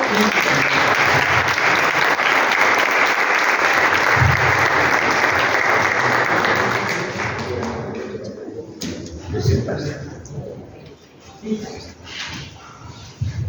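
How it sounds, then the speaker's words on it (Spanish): Sustained, dense audience applause at a book presentation fills the first several seconds, then fades into scattered claps and shuffling before a voice begins speaking. "Los recibimos con un aplauso."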